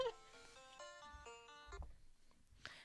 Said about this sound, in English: I'm getting a phone call from Alabama.